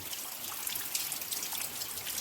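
Heavy rain hisses down in a village, with a steady close patter and faint water trickling and dripping underneath, continuous and fairly soft with no talking.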